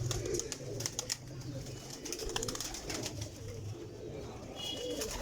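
Flock of flying pigeons being herded into their loft, with soft repeated cooing and scattered bird calls over a steady outdoor background.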